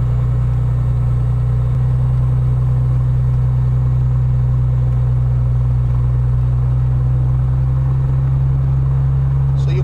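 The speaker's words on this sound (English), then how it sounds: "The engine sound has started increasing because we had started moving the throttle upwards." Aircraft propeller engine running steadily with a loud, continuous low rumble throughout, its speed held between 1200 and 2000 RPM, with no spoken voice.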